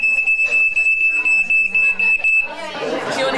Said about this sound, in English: That's the entertainment, the fire alarm going.